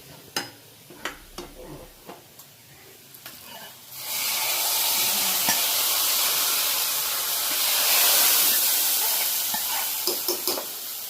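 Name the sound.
fried onion tempering poured into mango pulissery, sizzling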